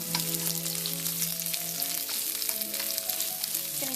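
Sliced onions fry in a pan with a dense, continuous crackling sizzle, close and even, with a low tonal hum running underneath.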